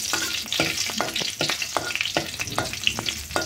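Green chili and ginger paste frying in a pan, a steady sizzle broken by rapid repeated scraping strokes of a spatula stirring, close and fairly loud, without speech.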